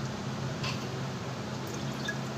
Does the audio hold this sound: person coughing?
no